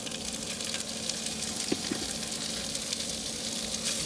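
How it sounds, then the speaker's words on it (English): Sausage sizzles in olive oil in a skillet, a loud, steady, close frying hiss that runs throughout, with a couple of faint clinks partway through. "Add some olive oil to our pan. Just like so. You know how we do. Always adding the olive oil. Now we're gonna add our sausage."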